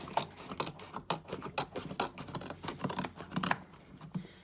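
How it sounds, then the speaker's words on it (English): Scissors snip repeatedly through a cardboard box lid, a close, fairly quiet series of crisp cuts and rustles in an uneven rhythm. "it says to cut off the front left of the corner box lid"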